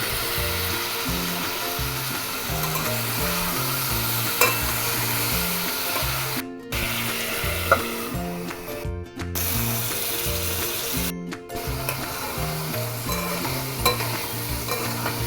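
Chopped winter vegetables being stir-fried in a pan for a hilsa curry, a steady close sizzle layered with rhythmic, repeated scraping strokes of a spatula, continuous throughout with no speech.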